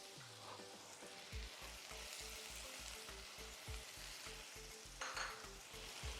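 Tomatoes sizzle in a hot pan for an okra side dish, with a steady frying hiss and a regular beat of stirring scrapes against the pan, one louder clatter near the end.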